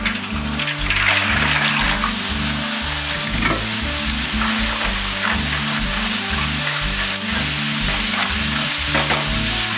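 Mussels tipped into a hot pan with white wine over a high flame set up a loud, continuous sizzle and bubbling that holds steady throughout, with a rhythmic low throb underneath and no talking.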